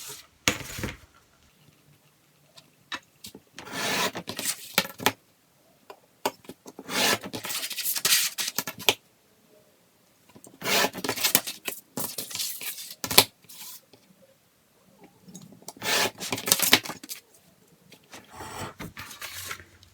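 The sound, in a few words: cutting notches in a paper envelope template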